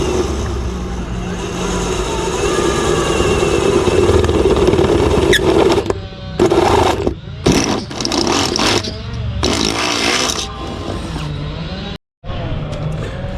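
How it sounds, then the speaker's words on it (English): A power drill bores a hole through a car's firewall, just above the hood release cable, during a gauge install. A loud, steady grinding whine runs for about six seconds, then comes in shorter, choppy bursts with brief pauses. "we've got to drill a hole"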